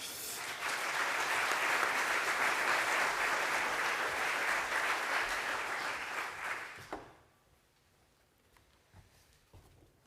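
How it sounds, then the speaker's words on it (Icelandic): An audience at an Icelandic public gathering claps for a speaker, a dense, even round of applause lasting about seven seconds before fading quickly to near quiet. "Gefið honum gott klapp."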